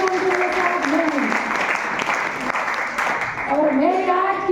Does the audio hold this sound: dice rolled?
no